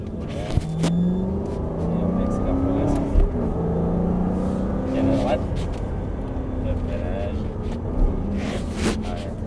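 An Aston Martin Vantage S accelerates on a course with cones, its engine rumbling and revving steadily near and loud throughout, with a few sharper peaks along the way.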